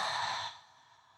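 One deep, breathy exhale through the mouth during a yoga flow, a soft rushing breath that fades out after about half a second, close and quiet, with no talk.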